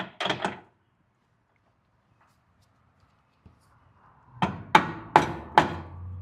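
A steering sector bushing being tapped into place: a short cluster of knocks, a long quiet pause, then four sharp, evenly spaced metallic hits close by.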